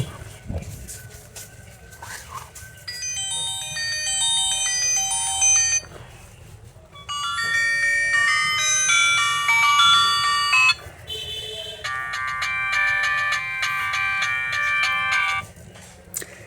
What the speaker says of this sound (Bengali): চলুন আমরা দেখি যে ফোনটির রিংটোনের সাউন্ডের সাউন্ড কেমন ছিল